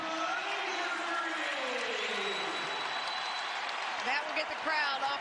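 A basketball crowd roars and applauds after a three-pointer at a Virginia Tech versus Dayton college game, a dense, loud wash of cheering that swells near the end, with an announcer talking over it.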